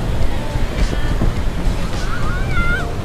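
Gusty wind buffets the microphone over the wash of waves breaking on Vung Tau beach, with the crowded shore's faint voices blending into the steady roar.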